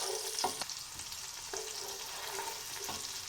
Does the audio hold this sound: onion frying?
yes